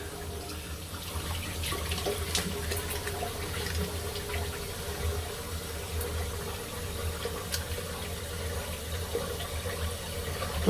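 Tap water runs steadily into a sink while a face is rinsed after a safety-razor shave. The flow makes a quiet, continuous hiss and splash with faint clinks, and no one speaks.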